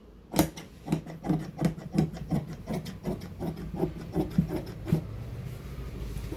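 Fabric for an A-line suit kurti being cut with scissors, a steady run of about fifteen crisp, rhythmic snips, close and clear with no talking.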